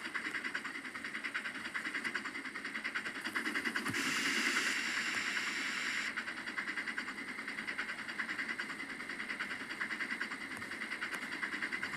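A locomotive hauls a long train up a grade at steady speed on a Maine heritage railroad. There is a continuous rumble and rhythmic clicking of wheels on rails, and a hissing burst partway through.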